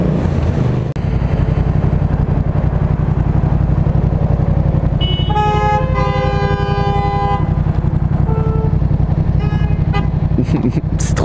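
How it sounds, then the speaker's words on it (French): A car horn honks repeatedly in city traffic, several sharp blasts of different lengths over a steady engine drone, with a voice talking inside the car. "Il klaxonne alors qu'il n'y a plus rien"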